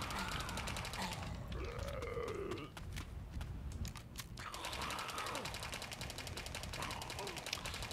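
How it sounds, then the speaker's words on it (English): Rapid, sustained SMG fire in the zombie-wave shooter 28 Waves Later, with dense repeated shots running loudly for most of the stretch, pausing briefly in the middle before resuming. "This SMG can hold a lot of bullets. This is just spamming everywhere."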